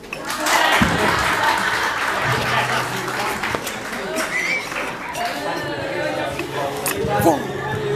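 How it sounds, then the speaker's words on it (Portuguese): A seminar audience at a Brazilian university applauds a performing duo: sustained clapping mixed with crowd chatter and voices talking over it. "Palmas."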